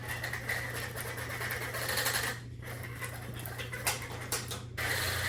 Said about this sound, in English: I'm going to reel, and you might hear this noise going